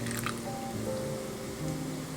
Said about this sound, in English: To make caramel, add granulated sugar and water.